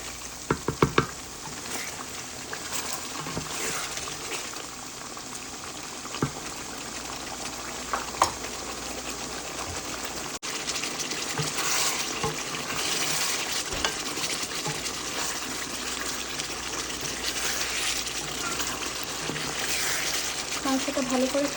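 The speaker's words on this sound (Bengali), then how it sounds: "এখন আমাদের বানিয়ে রাখা মশলাগুলো দিয়ে দিলাম। ভালো করে মশলাটা কষিয়ে নেব।" Chicken pieces with ground spice paste fry in a pan for a Bengali chicken curry, a steady sizzle with occasional scrapes and clacks of stirring throughout, close and fairly quiet.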